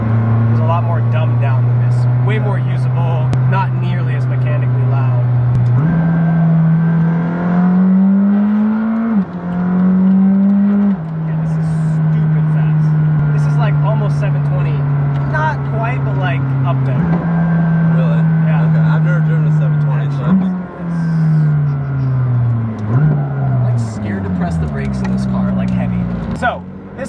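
A McLaren 620R sports car engine drones loud and steady throughout, its pitch stepping up and down through gear changes as it accelerates, with a voice talking over it.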